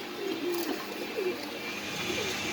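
Pigeons cooing at a pigeon farm, a few soft, low coos rising faintly over a steady background hum, with no voices.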